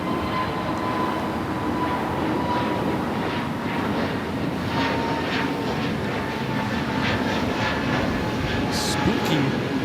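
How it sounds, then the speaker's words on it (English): Air China Boeing 777-300ER on its south side takeoff roll at Los Angeles International Airport, a steady broad jet engine roar that holds loud throughout, with a constant tonal hum and occasional faint clicks. "Looks like we're going to get the Air China 777-300ER Southside takeoff."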